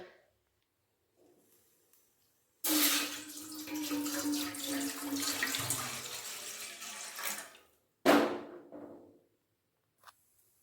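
Water from a tap runs into a metal cooking pot set on the gas stove for semolina pitha, a steady gushing pour for about five seconds, then a second short splash, close, with no talking.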